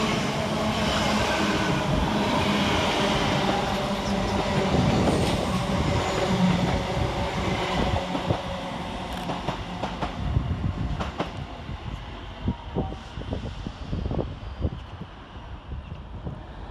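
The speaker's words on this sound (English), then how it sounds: "Passing next through the station is 323-216 and 323-241, working 2 Oscar 16 from Littrell Trent Valley to Bromsgrove." Two Class 323 electric trains passing through Duddeston railway station: a sustained loud rumble with rhythmic wheel clicks over rail joints, gradually fading as the units pass and draw away.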